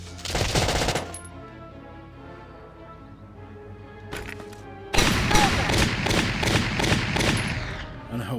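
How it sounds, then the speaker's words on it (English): Small arms gunfire rattles at a tank in the Valkyria Chronicles video game: a loud rapid burst, a quieter lull, then a longer sustained volley of close, dense shots. "I know one person with small arms is shooting at our tank"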